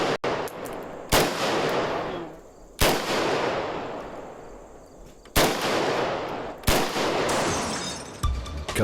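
Kalashnikov AK-47 assault rifle firing four sharp, loud single shots spaced a second or more apart, each ringing out with a long echoing tail that fades slowly.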